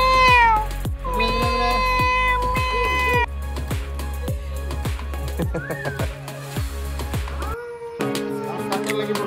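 A cat meows again and again up close, its calls rising and falling in pitch, with a few soft voices in the background.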